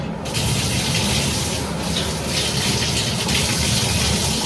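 Steady, loud rush of tap water running continuously while bleached hair is rinsed under it.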